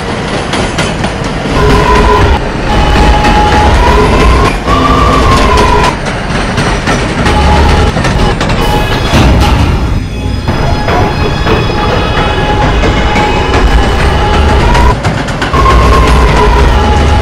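An R211A A train runs in the Transit City 3 game, a loud continuous rumble with clicking wheels over track joints and rising and falling motor whine throughout.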